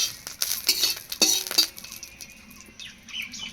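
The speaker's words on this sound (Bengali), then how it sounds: "এটাকে নেড়ে চেড়ে তেলের মধ্যে ভালো করে ভেজে নিতে হবে।" Three dry red chillies being stirred in hot oil in a wok: quick metallic clinks and scrapes of a spatula against the pan in short bursts, close and fairly quiet, with a faint background sizzle.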